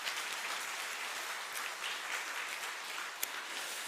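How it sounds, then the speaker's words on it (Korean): A church congregation at Seogwipo Central Church claps in encouragement, a dense, even patter of many hands sustained throughout at moderate distance, with no voices over it. "우리 서로에겐 격려의 박수 한번 보냅시다"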